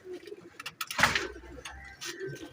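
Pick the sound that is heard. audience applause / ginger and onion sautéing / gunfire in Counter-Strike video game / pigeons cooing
pigeons cooing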